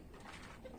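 Pigeons in a loft, soaked and in poor condition after rain, give a brief soft coo. The sound is faint and close, with no talking.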